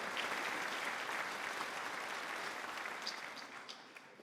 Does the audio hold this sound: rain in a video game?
no